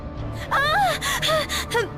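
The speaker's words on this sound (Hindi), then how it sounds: "बस उन सांसों की आवाजें आ रही थी" Sharp, strained gasps and breathy moaning in a Hindi horror story, several rising and falling cries close and loud over a low dark background drone.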